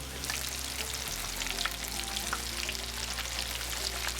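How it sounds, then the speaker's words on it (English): Battered mushrooms deep-fry in hot oil with a steady, dense crackling sizzle and scattered pops, close and continuous with no talking. "We're going to fry these for 2 or 3 minutes until they've browned up nicely."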